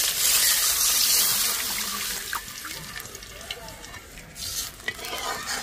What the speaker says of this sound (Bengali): এর মধ্যে যে সসটা গুলে রেখেছিলাম আমি সেটা দিয়ে দিচ্ছি